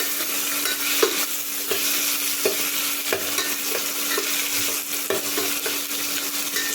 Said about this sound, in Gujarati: ડુંગળી અને બટાકા એડ કરી દઈશું સિંગદાણા હલાવી લઈશું